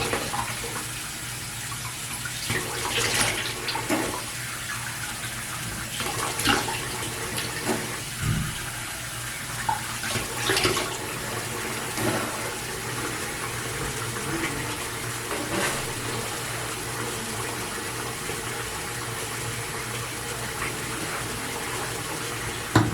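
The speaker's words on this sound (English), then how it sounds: "I'm about to rinse this stuff off my face." Water runs steadily from a bathroom faucet while skin care is rinsed off a face, a constant hiss with faint splashes and no talking.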